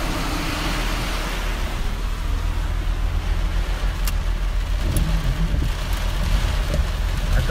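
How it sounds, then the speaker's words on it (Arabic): Heavy rain drums steadily on a car during a strong storm in the western region, a dense continuous roar with low engine rumble beneath and a few sharper drop hits, no talk. "نازل المطر الغزير اللي اقول لكم عليه."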